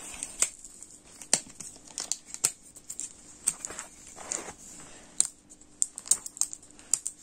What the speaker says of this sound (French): on enlève les petits scotch